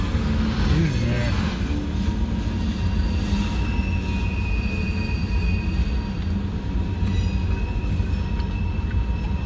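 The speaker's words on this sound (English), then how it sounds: "It's one hell of a train." A long CSX freight train, Q693, rolls past entering downtown Augusta, Georgia, with a dense, steady rumble of cars and high metallic wheel squeals, close and continuous.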